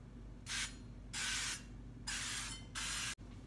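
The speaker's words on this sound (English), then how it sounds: "Now I've got to spray the pan." Cooking spray from an aerosol can misted onto a cupcake pan for vegan baking, heard as four short, quiet hissing bursts with brief pauses between them, close by against a faint room hum.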